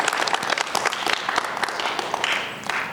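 A congregation at a healing ceremony service applauds, a steady wash of many hands clapping at moderate volume, gradually thinning toward the end.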